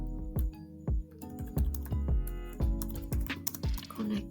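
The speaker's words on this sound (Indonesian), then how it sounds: "Kemudian kita ketikkan perintah" Keystrokes on a computer keyboard while a networking command is entered for a Cisco router configuration, about a dozen fairly even, close, moderately loud clicks in a steady rhythm, with no talking.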